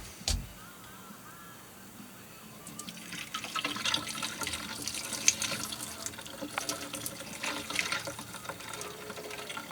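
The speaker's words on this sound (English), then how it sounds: "I want to drain the water off" Hot water drained off boiled cauliflower outdoors at a campfire cooking setup: a quiet pause, then a continuous splashing pour starting after a couple of seconds and running on unevenly, close by.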